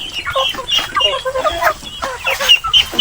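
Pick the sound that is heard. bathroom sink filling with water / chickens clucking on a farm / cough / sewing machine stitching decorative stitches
chickens clucking on a farm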